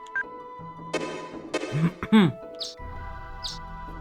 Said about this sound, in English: There's the same bird sound effect as in Xenogears